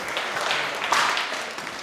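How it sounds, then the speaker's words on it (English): Audience applause at a live mind-and-magic stage show, a broad wash of clapping held steady for about two seconds at moderate level, with no one speaking over it. "Round of applause for them, please."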